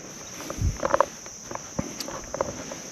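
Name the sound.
bugs chirping at dusk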